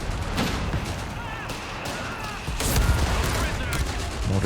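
Anti-tank rifle fire in Company of Heroes 3 during a large 4v4 battle, with dense overlapping gunshots and booms. The firing runs continuously and loud, swelling heavier in the second half.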